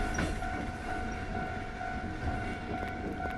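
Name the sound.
train passing at railroad crossing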